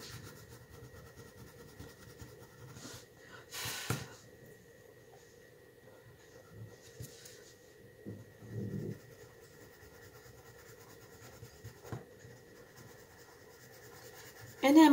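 Crayon rubbing on paper with light pressure as one shade is layered over another, a soft, faint, steady scratchy scraping with a few louder strokes.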